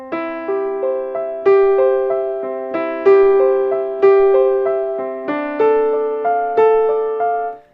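Piano notes of Bach's Prelude in C in a repeating rolling pattern, with thumb-played lower notes struck noticeably harder than the rest, giving an uneven, lopsided pulse.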